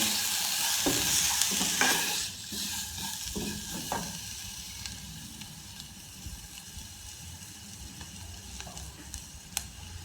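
Spices being mixed into a hot pan for a vegetable sandwich filling sizzle loudly at first, then a spoon scrapes and stirs in scattered strokes as the frying settles to a softer hiss.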